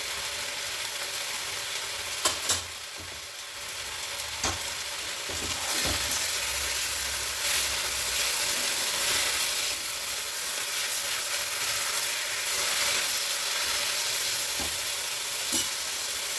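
Chopped coriander leaves fry in a pan on the stove with a steady soft sizzle, broken by occasional clicks and scrapes of stirring, and no talking.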